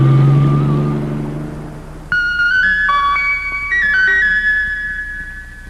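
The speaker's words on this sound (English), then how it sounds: "Then George and his friend got in their little blue car and drove off." A small blue cartoon car drives off, heard as a rising sequence of bright, tonal horn-like and engine notes that start abruptly after a low hum fades and step upward in pitch, loud and close.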